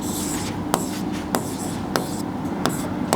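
Chalk or marker scratching across a classroom board as Bengali words are written, with steady scraping strokes and a few sharp taps, close and fairly loud with no talking.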